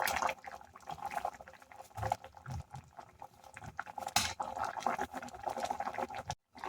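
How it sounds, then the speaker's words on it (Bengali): Raw banana koftas drop into simmering gravy in a kadai, the thick curry bubbling and gurgling steadily at low volume throughout, with small splashes as the balls go in and a brief gap near the end. "সব কোপ্তাগুলো আমি কড়াইয়ের মধ্যে দিয়ে দিয়েছি"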